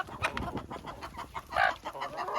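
Farm chickens in an enclosure clucking and chattering in short bursts while pecking at bread, close and moderately loud, with no talking.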